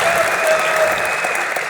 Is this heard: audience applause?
yes